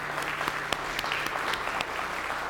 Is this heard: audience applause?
yes